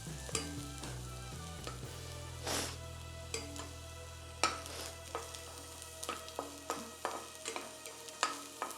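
Spinach (keerai) snack frying in oil until crispy: a soft continuous sizzle with repeated stirring scrapes, sparse at first and then coming at a steadier rhythm, close but fairly quiet, with no speech.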